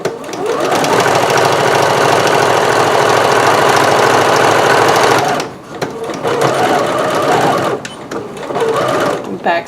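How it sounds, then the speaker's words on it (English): Sewing machine back stitching a seam, a loud close mechanical whir running steadily for several seconds, then stopping and restarting in shorter bursts, with speech around it. "Back stitching those a little."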